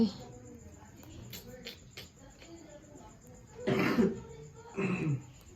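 A few faint clicks and shuffles, then two sharp coughs in quick succession, close to the microphone in a quiet room.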